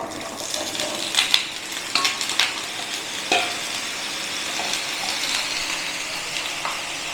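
Potato pieces dropped into hot mustard oil for Bengali aloo posto, sharp clinks and splashes at first, then a steady soft sizzle of frying with occasional stirring taps.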